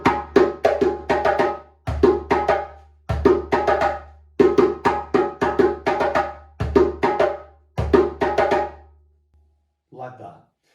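Kaloo rhythm on djembe and dundun drums, played in repeating bursts of sharp hand strikes over deep bass tones, loud and close, with a short pause near the end followed by a faint final phrase.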